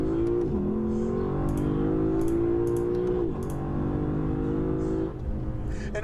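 A car engine drones steadily and close, its pitch holding then dropping sharply as it makes quick upshifts in manual mode, with an exhaust crack on the upshift and faint clicks layered on top.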